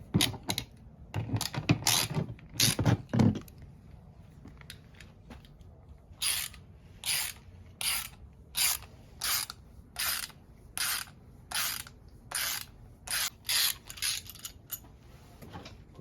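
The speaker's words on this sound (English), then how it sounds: "I'm going to remove these bolts." A hand ratchet clicks as bolts come off a Ford V10 engine during a rebuild: an early cluster of clatter, then a long run of crisp, evenly spaced ratcheting bursts close by.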